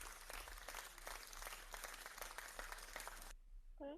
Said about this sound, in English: I'm just going to give her a round of applause before she drops off.